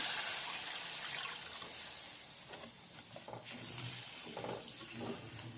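Water splashes and runs into a pan of roasted fish curry masala, with a soft sizzle and bubbling as it hits the hot spice mix, fairly quiet and close.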